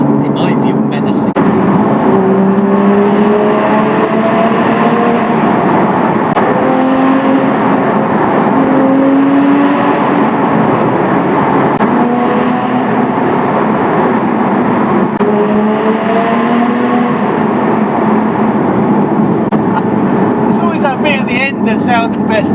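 A Porsche Cayman 981 GT4 engine drones loudly and steadily close by, its pitch rising in repeated rev sweeps, with a sustained rumble throughout.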